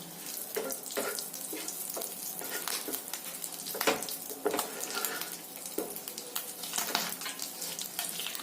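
Onion-garlic paste fries in oil with bay leaf for a prawn malai curry. A dense, steady sizzle carries throughout, punctuated by frequent spattering crackles and a few stirring knocks, with no talk.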